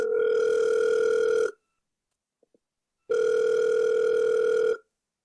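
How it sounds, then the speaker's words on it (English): Telephone call-connecting tone, a loud steady electronic two-pitch beep lasting about a second and a half, then a short silence with faint clicks, then the same tone again. "We're just connecting you now, Sorrel."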